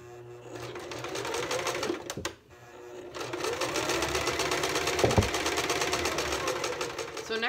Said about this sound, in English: We're sewing now the bottom side or the chin side.